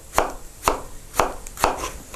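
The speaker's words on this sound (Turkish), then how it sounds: "Patatesler kesiliş şekli eğer iri ise şöyle yarım dilime" A knife chops through potatoes into half-moon slices on a board, four crisp, evenly spaced cuts sounding close and alone.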